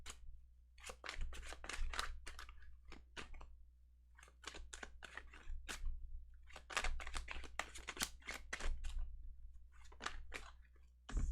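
Tarot cards shuffled by hand during a quiet reading, giving repeated bursts of crisp riffling and slapping in uneven clusters, close and fairly soft, with no talking.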